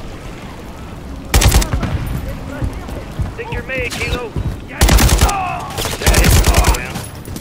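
Gunfire from enemy gunners posted on a ship in Call of Duty: Modern Warfare 3, loud bursts of rapid automatic fire in three separate volleys with brief shouted voices between them.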